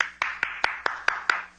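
One person claps hands six times at a slow, even pace, each sharp smack close and distinct with brief silence between, in an old radio drama.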